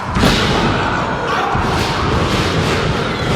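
At an NWA wrestling show, the 275-pound War Machine stomps on his opponent's knuckles: heavy thuds land amid loud, constant crowd noise, with a voice talking over the din.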